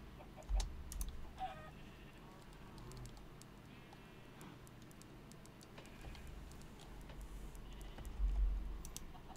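Modded Minecraft chickens clucking softly in a quiet game scene, mixed with sparse clicks and keyboard taps, faint and intermittent.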